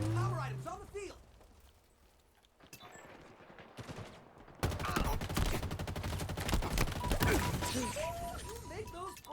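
Halo gunfire starts as quiet scattered shots, then from midway becomes a loud, sustained barrage of rapid, crackling bursts. Game voices and music sound over it.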